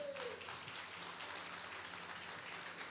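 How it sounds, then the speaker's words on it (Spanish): Church congregation applauding during a Sunday service, a faint, steady wash of clapping that fills the whole stretch at low volume with no voices over it. "Le damos un aplauso al Señor bien fuerte."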